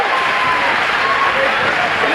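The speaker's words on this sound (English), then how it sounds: "a standing ovation from the Norton crowd." A Norton basketball crowd gives a standing ovation to seniors honored for a 2003 state championship: two seconds of loud, dense clapping and cheering that fills the gym evenly.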